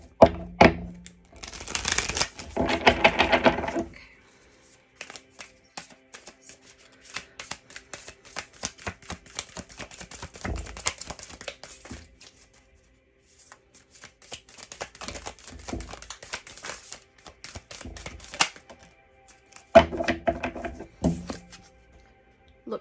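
A brand-new deck of playing cards sticking together as it is shuffled, in rapid papery bursts of riffling and flicking separated by short quiet pauses, close and fairly soft.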